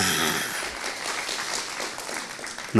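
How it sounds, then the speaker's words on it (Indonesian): A congregation at a Sunday church service claps in agreement, a steady wash of many hands throughout, ending with a brief voice at the close. "Yang setuju tepuk tangan."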